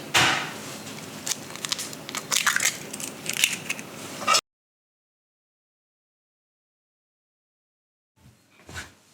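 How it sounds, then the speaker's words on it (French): Eggs being cracked for cookie dough make close, crunchy cracking and shell-crushing sounds in quick bursts, then a long silence and a few faint cracks at the end. "Et je vais casser les œufs"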